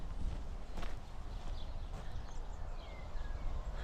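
Hooves of horses walking on a farm give faint, irregular clip-clops against a steady outdoor rumble. A few soft knocks stand out, and no one speaks.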